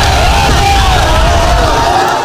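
A large crowd of Gachagua supporters in Nyeri town roars in a loud, sustained collective shout and yell as it charges toward police officers, heard close and continuous.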